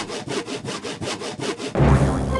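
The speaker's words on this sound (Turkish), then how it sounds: "Kes testereyle." Wooden boards being sawn by hand in a video game: about eight rhythmic back-and-forth strokes, loud and close, ending in a louder scraping burst.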